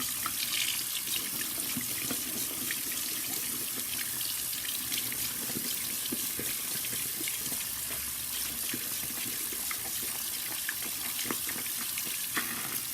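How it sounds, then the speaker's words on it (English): Tap water runs steadily over a makeup sponge being rinsed at a sink, a continuous close splashing rush with no talk. "So I'm just going to do this, run it underwater."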